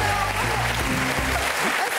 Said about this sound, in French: Attendez, madame, monsieur, applaudissements.